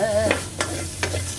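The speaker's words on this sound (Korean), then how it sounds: "먼저 볶기 전에 고기를 먼저 볶습니다" Pork and its fat stir-fried in a pan as a base for kimchi stew: a steady close sizzle with a couple of sharp scraping stirs against the pan.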